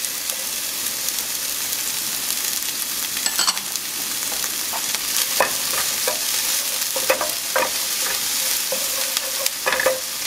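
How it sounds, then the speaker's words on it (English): Onions and Anaheim pepper sizzle steadily in a pan, a loud, close, continuous frying hiss with occasional clicks and scrapes of stirring. "Once your onions start getting translucent, you want to go ahead and add your Anaheim pepper."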